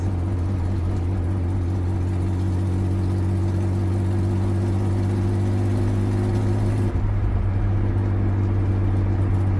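BMW E36 with a full exhaust system gives a steady, close, low droning engine note with strong bass harmonics, holding mostly even before a slight change in tone near the end, with no talking.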